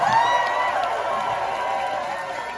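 A crowd at a campaign meet and greet in St Catharines cheers and whoops in a continuous roar, loud and sustained, with no clear single voice standing out.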